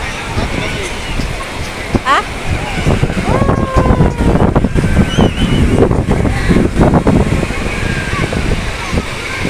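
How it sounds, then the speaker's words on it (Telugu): Sea waves breaking at Juhu Beach in Mumbai, a continuous rushing surf under wind buffeting the microphone, with people talking over it throughout. "అలలు చూడండి ఎట్లా వస్తున్నాయి."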